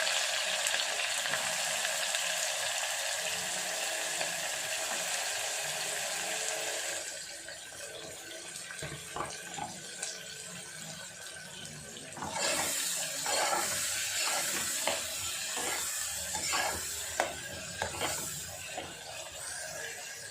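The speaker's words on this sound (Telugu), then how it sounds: "ముందుగా కట్ చేసి పెట్టుకున్న ఆనియన్స్ ఉన్నాయి కదా ఇవన్నీ ఇందులో వేసుకొని బ్రౌన్ ఆనియన్స్ ఫ్రై చేసుకోవాలి" Chopped onions deep frying in hot oil for Hyderabadi mutton biryani give a loud, steady sizzle up close, settling a little after several seconds, then joined by scraping and clinking as they are stirred.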